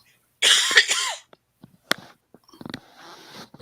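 A harsh, bad cough from someone on the third day of a cold, with one long raspy burst followed by a few short catches and breathy throat sounds, close and loud.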